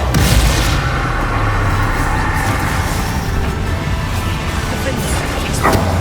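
The Bombarda explosion spell in Hogwarts Legacy's final battle against Ranrock bursts out loud and close, then rolls into a sustained, rumbling roar of blasts and crashes. Voices speak over the din.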